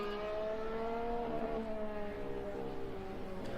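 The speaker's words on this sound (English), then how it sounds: "The engine's really interesting as well, to hear how it's sounding." A 2026 Formula 1 car engine heard trackside, a loud high-pitched whine with falling pitch as it sweeps past, sustained and alone.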